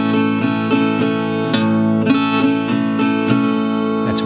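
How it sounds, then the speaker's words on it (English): Steel-string acoustic guitar strumming a country bass-down-up pattern through a chord progression from a song, with steady rhythmic strums and regular accented bass hits, close and alone. "Now we need to apply our country style strumming pattern to that progression."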